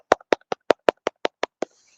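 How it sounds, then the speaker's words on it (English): A live-stream host claps nine times alone, close up, in an even, steady rhythm of sharp single hand claps with no talk. "Let's clap for that."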